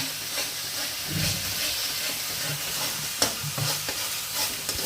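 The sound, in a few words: spice paste with chili, turmeric, onion, garlic, ginger frying, stirred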